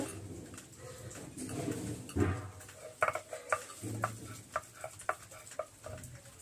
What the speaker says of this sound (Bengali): ভালো করে রসুনটাকে বেটে নিয়েছি, এর সাথে একটু আদা বেটে নেব।